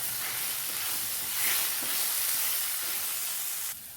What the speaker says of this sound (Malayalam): ഇതിലേക്ക് 1 ടേബിൾ സ്പൂൺ ഇഞ്ചിയുടെയും വെളുത്തുള്ളിയുടെയും പേസ്റ്റും കൂടി ഇട്ട് കൊടുക്കാം. വഴറ്റി കൊടുക്കാം.